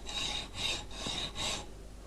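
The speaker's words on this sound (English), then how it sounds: "Push the hacksaw forward, not downward, and release pressure on the rearward stroke." Hacksaw cutting a workpiece in steady forward strokes, four rasping passes in about two seconds, close and fairly quiet, no talk.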